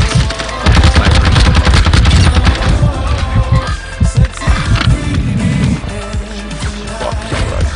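Dense, loud bursts of gunfire crack and rattle through a shooter video game firefight with snipers, with rapid repeated shots and impacts filling the whole stretch.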